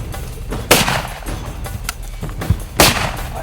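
Rifle fire during a Cape buffalo hunt in Tanzania: two heavy outdoor shots about two seconds apart over steady wind and bush noise, with no talk between them.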